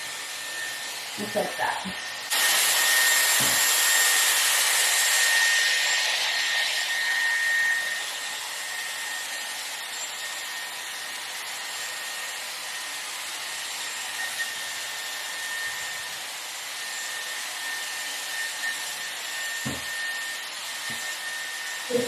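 A Dyson Airwrap styler blows air while drying hair, starting with a loud whooshing blast for about five seconds before dropping to a quieter steady hum that runs on; someone speaks briefly at the start and near the end.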